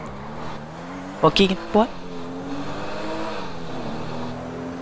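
Souped-up modded car engine in GTA V hums and revs steadily under a man's brief speech, a continuous mid-level drone with a few rising engine tones.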